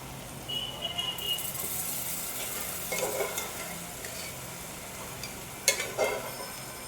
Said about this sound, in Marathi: आता आपण याच्यात मटकी घालतोय.